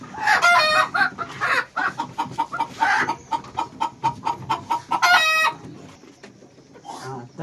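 Free-range village hens at a rural poultry business cluck and squawk in loud, rapid bursts, with one sharp crow-like call near the end and quieter scratching sounds between them, close by.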